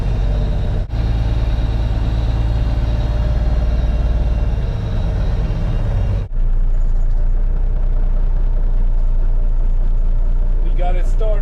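A cold International 4300 Transtar diesel truck engine idles close by in a continuous deep rumble, broken by one short dip in the middle before the drone carries on steadily.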